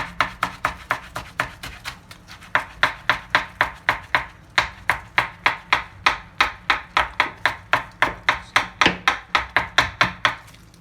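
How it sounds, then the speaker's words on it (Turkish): A knife finely chops parsley on a board for a Turkish tablacı salad, with fast, regular, crisp taps repeating steadily throughout, close up and without talking. "Maydanozları ince ince kıymamız lazım."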